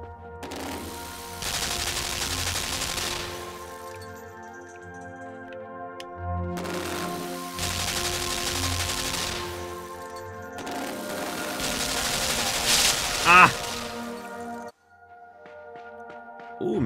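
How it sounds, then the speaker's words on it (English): Machine gun fire in the dark side-scrolling game Limbo comes in three long, loud rattling bursts, each lasting a few seconds, with near-silent gaps between them. "That's a machine gun."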